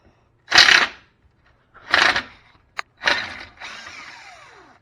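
A socket wrench working a transmission fitting under a car, three bursts of close ratcheting clicks separated by short pauses, then a fainter scraping tail.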